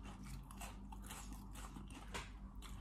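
Close-up chewing of spicy Isan sausage, with repeated crunchy bites and mouth sounds running steadily throughout, no speech.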